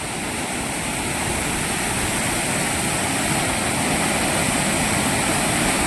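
A river rushes and roars in a steady, dense wash of flowing water, heard up close and loud for the whole stretch with no voices.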